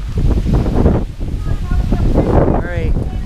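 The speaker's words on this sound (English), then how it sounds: "this wind is strong" Strong wind gusts buffet the microphone outdoors in a storm, a steady loud roar with rustling, while people talk over it.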